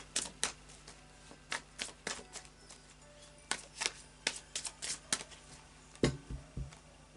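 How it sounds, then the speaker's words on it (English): Oracle cards riffle and snap in a series of quick shuffles, crisp papery bursts separated by short pauses, close and fairly quiet. "So final shuffle of the Fairy Oracle cards by Brian Froud."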